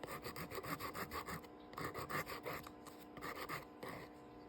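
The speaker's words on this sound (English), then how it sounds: "I'm going to go ahead and file like I've been filing the nail." Nail file rasping against a fingernail to roughen its surface before gel is applied, a quick rhythmic back-and-forth scraping in short bursts with brief pauses, close and fairly loud with no talking.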